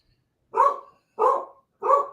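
A dog barks three times in an even rhythm, each bark close, loud and clear, with silence between them and no talking.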